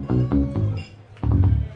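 Tones from a PlayStation 2 analog game controller played as a bass part come in two short bursts of pitched, thumping notes, close and fairly loud, with a brief gap between them and no talking.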